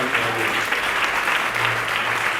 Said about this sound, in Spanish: ¿Cuántos pueden dar una fuerte aplauso a Dios?